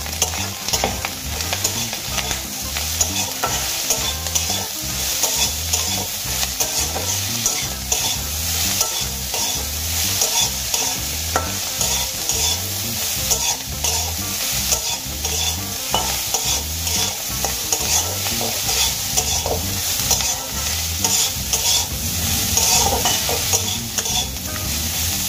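Grated coconut and prawn heads fry together in a pan, giving a steady, close sizzle with repeated rhythmic scraping and stirring strokes throughout, with no voices.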